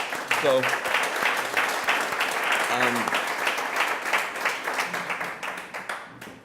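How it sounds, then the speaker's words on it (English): A crowd applauds with dense, steady clapping that holds throughout, a few voices faintly audible beneath it. "please give him a round of applause for being here as well"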